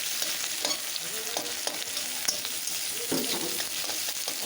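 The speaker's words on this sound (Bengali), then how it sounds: "তো বন্ধুরা এই দেখো কাঁচা লঙ্কা আর পেঁয়াজ একসাথে দিয়ে দিয়েছি।" Green chilies and chopped onion fry together in a little oil in a pan, a steady close sizzle with scraping stirs and brief clinks running through, no voice heard.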